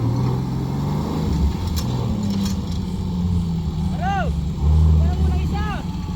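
4x4 off-road vehicles running a challenge track, with engines rumbling and rising and falling in pitch while people talk nearby and a few whistle-like chirps cut through.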